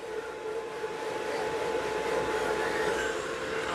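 A handheld hair dryer blows at reduced speed onto hair wound around a round brush during a home blowout, a steady close whooshing hum with a faint whine, no talk.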